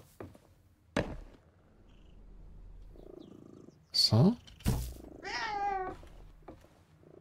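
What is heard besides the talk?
cat purring and meowing in video game Reka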